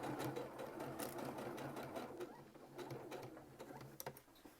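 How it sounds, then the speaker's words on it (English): A sewing machine stitches a fabric mask with a filter opening, its needle running in a fast, steady rhythm at close range, with short pauses and a brief reverse near the end. "And then we'll just come back and sew all the way and go ahead and reverse."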